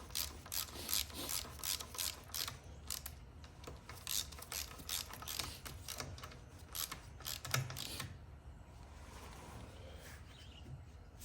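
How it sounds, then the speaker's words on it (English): A ratchet clicks in quick rhythmic bursts while bolting a hinge back onto a lathe after cast iron repair, close and fairly quiet, the clicking slowing and fading near the end; no speech. "Now we can bolt it on."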